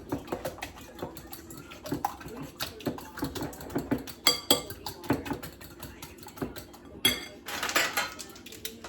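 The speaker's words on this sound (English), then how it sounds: "Let me get a fork here and beat them." A fork beating eggs in a bowl for scrambling, heard as a quick, steady patter of close metallic clinks and taps that runs throughout, with a few louder knocks near the end.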